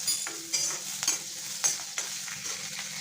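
Green chillies and chopped ginger frying in a pan, a close steady sizzle with repeated scraping stir strokes every half second or so, no talking.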